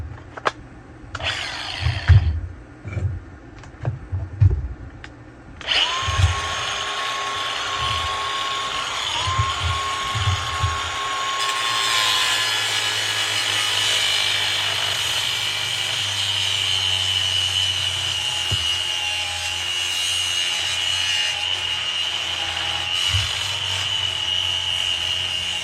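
An angle grinder cuts into a copper electric motor for scrap recycling. A few knocks and handling noises come first, then the grinder spins up into a loud, sustained, whining cut that runs to the end.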